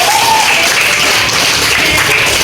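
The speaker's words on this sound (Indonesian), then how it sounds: "Sangat bagus, tepuk tangan dulu." Dense, continuous clapping from a classroom audience fills the whole stretch, even and fairly loud, with no clear pauses.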